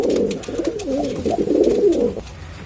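A pair of Chinese Kamagar pigeons coo close by, with warbling, rolling calls that rise and fall in a continuous run over faint background noise.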